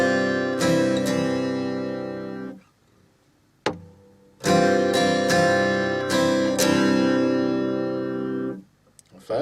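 Acoustic guitar strumming a song's chords slowly with an open strum between changes: sustained ringing strums with a pause around the middle, then more full strums, close and clear.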